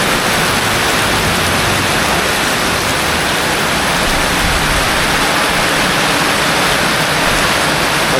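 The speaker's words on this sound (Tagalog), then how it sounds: "Tuloy-tuloy pa yung ganyang ulan." A dense, continuous wash of heavy rain, loud and unbroken throughout, with no voices.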